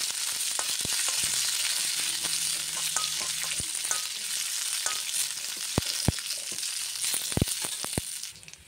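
Curry leaves and dried red chilies crackle and fry in hot oil for a tempering for gongura pachadi, a continuous close sizzle punctuated by sharp pops and the occasional clink of a stirring spoon.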